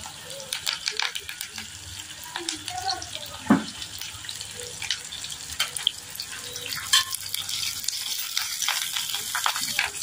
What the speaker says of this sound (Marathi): फोडणीमध्ये थोडंसं पाणी टाकून घ्यायचं.